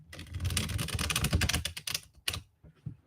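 Rapid, dense clicking and slapping of tarot cards being shuffled, close up and steady for a few seconds before trailing off into a few softer taps.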